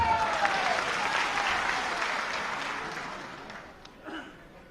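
Audience applause fills an auditorium during an honour ceremony in Jaipur, with a dense, sustained wash of clapping that slowly tapers off over several seconds.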